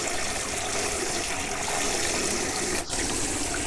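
A DIY live well pump sprays water everywhere, a loud continuous gushing splatter that briefly drops out near the end before resuming.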